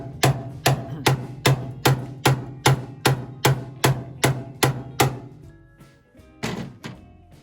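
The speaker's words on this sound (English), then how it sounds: "I'm using a pretty good sized sledgehammer too" A good-sized sledgehammer strikes metal while freeing the gas tank of a Ford Model A, about fourteen heavy, evenly spaced blows, close and loud, with a short pause before the last few.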